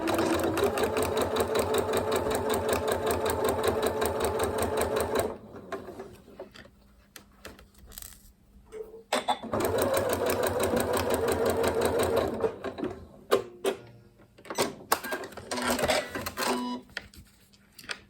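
A sewing machine stitching a cushion seam with short back stitches, loud close bursts of fast rhythmic needle clatter separated by pauses and handling noises.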